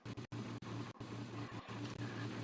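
A 2003 Bluebird A3 FE school bus in the Rigs of Rods game idles with a steady low diesel drone, broken by several abrupt short dropouts.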